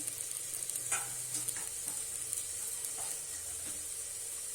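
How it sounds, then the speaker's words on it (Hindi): Spices frying with browned onions in a pan for kala chana curry crackle in a steady, soft sizzle, with light stirring taps and scrapes scattered throughout. "हमने मसाले को थोड़ा देर भून लिया है।"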